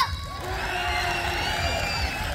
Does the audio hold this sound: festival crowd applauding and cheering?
yes